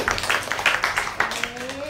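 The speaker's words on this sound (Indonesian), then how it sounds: "Tepuk tangan dulu Raja." Students applaud in a trigonometry classroom: a brief, fairly soft patter of hand claps mixed with voices talking over it, ending as speech takes over.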